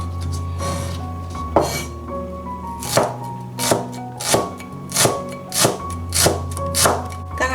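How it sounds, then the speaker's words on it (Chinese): A knife chops scallions into fine shreds on a board, about a dozen sharp, close knocks in a fairly even rhythm over a faint background hum, with no one speaking. "葱切丝"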